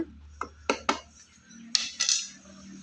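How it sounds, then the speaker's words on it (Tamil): A spoon knocks against a container while a soaking biofertilizer mixture is stirred, several distinct clinks and scrapes in a loose rhythm, close and fairly quiet, with no voices. "அப்பப்போ வந்து நல்லா இந்த மாதிரி போட்டு இடையில கலந்து விட்டுருங்க"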